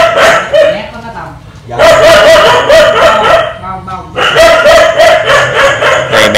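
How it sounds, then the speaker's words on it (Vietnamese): Dogs and puppies bark noisily in a run at a rescue shelter for abandoned dogs. Repeated loud bursts of yapping come in two clusters separated by a brief lull. "những bé này nó hơi sủa hơi ồn đây cả nhà."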